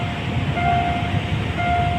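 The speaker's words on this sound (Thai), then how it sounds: "นี่เดี๋ยวเรามาชมขบวนรถไฟนะครับ" Thai passenger train no. 388 pulls into Asok halt in Thailand, a steady low rumble of wheels on rail with a sustained tonal squeal rising over it, fairly close and continuous with no talk.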